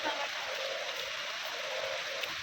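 Heavy monsoon rain falls outdoors as a steady, even hiss of water that stays constant throughout, with no clear voices over it.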